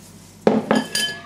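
A spoon clinks and scrapes against a bowl in three quick strokes while gram flour batter for onion pakoras is mixed, close and crisp with no voices.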